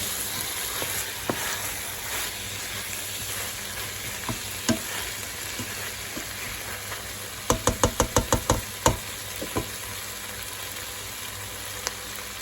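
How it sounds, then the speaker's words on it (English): Pumpkin and bacon soup base browning in a pan, a constant sizzle broken by stirring scrapes and a rapid run of sharp knocks of a utensil against the pan, close and alone. "you're just getting everything a little bit browned off"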